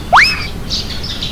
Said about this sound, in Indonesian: pagi-pagi begini enak di suara burungnya